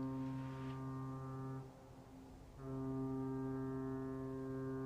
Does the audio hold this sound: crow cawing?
no